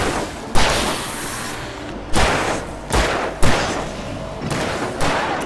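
Heavy gunshots ring out in Alan Wake Remastered, a handful of loud booming reports spaced about a second apart over a constant rumbling backdrop.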